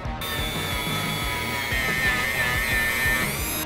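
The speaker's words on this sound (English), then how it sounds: "So now I can do the rest of it with a sander." Electric sander shaping a carbon fiber rocket fin can, a steady high whine with a buzzing rhythmic grind underneath, close and continuous for a few seconds.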